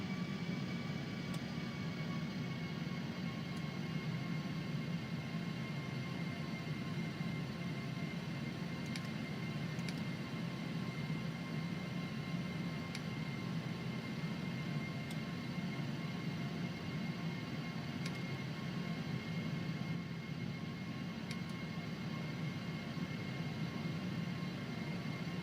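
Airbus A320 jet engines spooling up to takeoff thrust in the Aerofly FS flight simulator, heard as a steady, loud broadband roar with a constant whine that holds evenly for the whole stretch, with no talking.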